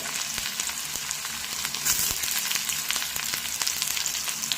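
Garlic, ginger and green chillies hiss in hot oil, a bright, continuous sizzle with crackling pops and a few soft stirring taps, close and steady.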